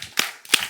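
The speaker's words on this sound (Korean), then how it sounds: "박수 3번 시작." A church youth congregation at a Sunday worship service claps together in unison, giving two sharp, crisp claps in quick succession with a short gap between them.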